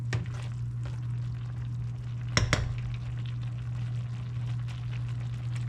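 A lidded pot of food simmering on a stove, with a low steady hum and bubbling plus a couple of sharp clinks from a spoon stirring or touching the pot, close and without talk.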